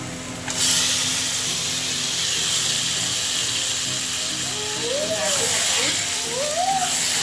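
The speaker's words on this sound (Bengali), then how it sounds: "এবার ম্যারিনেট করা চিকেনটা দিয়ে দেবো।" Marinated chicken dropped into hot spiced oil sets off a loud, sudden burst of steady hissing sizzle that carries on for several seconds, with a few faint whistling tones near the end.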